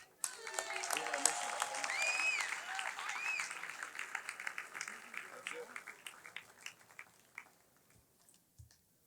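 Audience applause at a sports hall of fame induction ceremony honoring past inductees, steady clapping from a crowd that swells early, holds, then thins into scattered claps before fading out.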